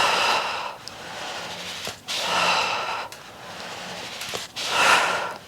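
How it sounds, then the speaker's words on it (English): Three long, steady exhalations during a Pilates reformer workout, each a breathy whoosh lasting about a second and a half, separated by brief pauses, close and clear with no talking. "Exhale out, inhale back."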